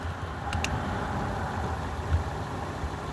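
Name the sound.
rough-sounding car engine idling after sitting unused two years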